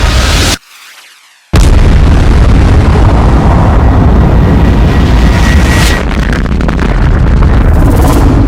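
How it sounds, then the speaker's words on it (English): A huge, sustained explosion roars, standing in for the singularity bursting at the Big Bang. It opens with a brief boom, drops to near silence, then surges back as a loud, continuous rumbling blast. "this tiny singularity violently exploded"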